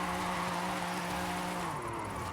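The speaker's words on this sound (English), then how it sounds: "Cannot believe I'm drifting a front-wheel drive car like this clean." A front-wheel drive Toyota Celica drifts in Forza Horizon 5, its engine droning steadily at high revs with tire squeal mixed in, loud and continuous throughout.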